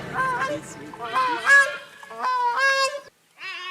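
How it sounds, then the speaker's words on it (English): Gray-crowned cranes in Uganda give loud, nearby honking calls in several bursts, trumpeting goose-like notes rising and falling, with a short pause before a final call. "This is a song of the gray-crowned crane, the national bird of Uganda"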